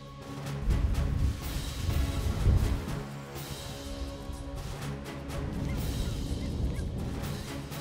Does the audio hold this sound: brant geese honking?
yes